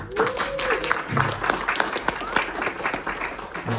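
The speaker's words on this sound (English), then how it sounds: "let's give another round of applause to Mr. Boon Tan." An audience at a music industry question-and-answer event applauds, with dense clapping of moderate loudness filling the whole stretch and a few brief voices and whistles mixed in.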